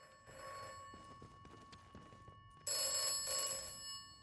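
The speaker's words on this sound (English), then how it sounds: "Telephone's ringing." An old-style telephone bell rings in the video game Atomfall, repeating in metallic trills that grow suddenly louder and closer partway through, heard alone without talk.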